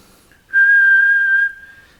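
A single clear whistled note held steady for about a second, close and loud against near silence.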